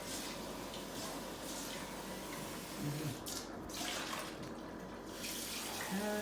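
Running tap water rinsing out a dish in a kitchen sink, a steady broadband splashing wash that stays continuous throughout, fairly quiet and close.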